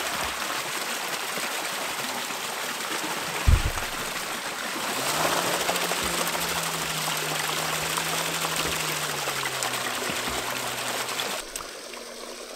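Water runs steadily through a microhydro waterwheel, a constant trickling rush with a low humming tone rising partway through and a single knock near the start.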